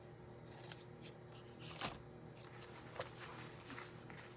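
Scissors snip through a paper cutout at close range, a few quiet crisp cuts spaced irregularly over a faint background.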